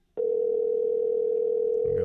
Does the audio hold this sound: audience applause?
no